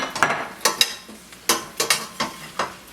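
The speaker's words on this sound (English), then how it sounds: "Dump the whole pot in there." Brussels sprouts tumbling from a pot into an oiled pan over medium-high heat, a rapid series of close clattering thuds and knocks over a light sizzle.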